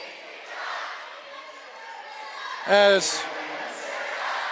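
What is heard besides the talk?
crowd at girls basketball game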